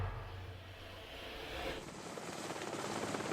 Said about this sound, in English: I'm flying in a helicopter with 3 students and 3 professors staring out the window at the Greenland ice sheet.